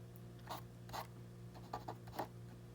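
A pen scratches out a physics solution on paper in short, separate strokes, some single and some in quick pairs, faint and close over a quiet background hum.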